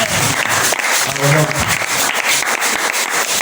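A church congregation applauds in a dense, steady wash of clapping from many hands, with voices shouting over it throughout.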